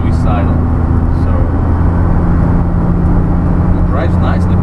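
1991 Daihatsu Atrai turbo intercooler kei mini van driving on the road, a loud steady low engine and road rumble throughout, with brief faint bursts of other noise near the start and end.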